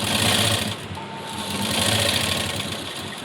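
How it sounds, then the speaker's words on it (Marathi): An electric sewing machine runs steadily, stitching the neckline of a blouse before the neck is cut; a continuous close, loud motor whir and needle clatter with no talking. "तर इथूनच मी आधी शिलाई देऊन घेणार, आधी शिलाई द्यायची आणि नंतर मग हा गळा कट करायचा।"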